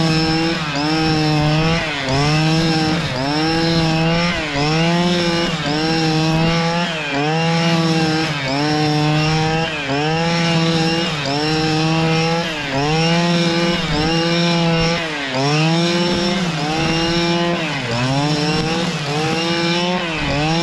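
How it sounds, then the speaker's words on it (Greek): A STIHL FS 261 brushcutter fitted with a SuperCut 40-2 cutting head runs continuously, its loud two-stroke engine droning close up and rising and falling in rhythmic revs as it cuts, with no talking. "Η καλύτερη κεφαλή κοπής που έχω δει σε χορτοκοπτικό."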